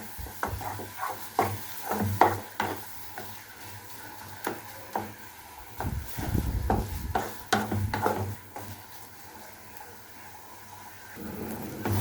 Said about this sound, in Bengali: পেঁপে ভর্তাটা আমার ভাজা ভাজা হয়ে গিয়েছে